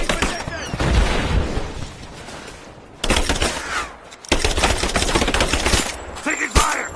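Bursts of automatic gunfire in Rise of the Tomb Raider: sharp, rattling volleys in several clusters separated by brief lulls, moderately loud, with shouted voices among the shooting.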